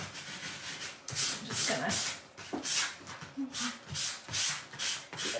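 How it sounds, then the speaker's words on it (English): Sandpaper lightly sands the white-painted front of a craft pumpkin in short, rhythmic rubbing strokes, close up, while someone talks over the first part. "give it just a little teeny sanding to get this front surface smooth"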